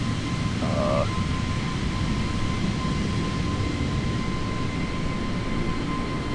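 Airbus A320 engines in Microsoft Flight Simulator drone as a steady, broad roar with a constant whine, heard from an exterior view, loud and unchanging throughout with no talk.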